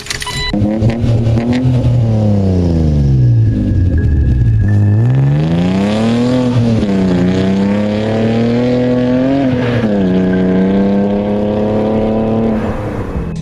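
A Chevrolet Captiva engine drones steadily and loudly, rising and falling in pitch as the vehicle accelerates and shifts, with no voices.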